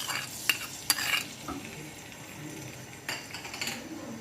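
Chopped garlic sizzles in oil in a frying pan, soft frying hiss under a few sharp clinks and scrapes of a utensil stirring against the pan.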